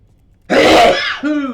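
A single sneeze from a character in Metal Gear Solid 4: Guns of the Patriots on PS3: a sudden loud, close burst followed by a short voiced tail.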